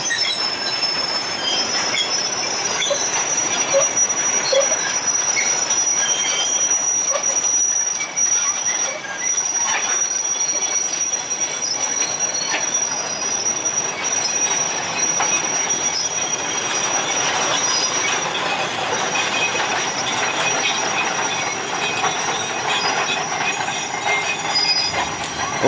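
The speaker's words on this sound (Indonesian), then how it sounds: "lokomotif andalan pabrik gula Kedaung perlahan-lahan masuk ke dalam pabrik" A sugar cane train locomotive rolls slowly into the Kedawung sugar factory at night, its wheels squealing continuously with a high metallic screech over steady rumble and clatter, loud and close, with no talk.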